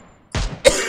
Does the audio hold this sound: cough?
yes